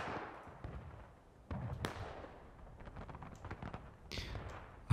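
Scattered artillery booms and thuds from a 100-player battle in the video game Generals at War, irregular and fairly faint, with crackling impacts spread over a low rumble.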